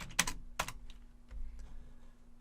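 Keys clatter on a computer keyboard as a command is entered in a terminal, a few sharp close clicks up front followed by fainter scattered taps over a low steady hum.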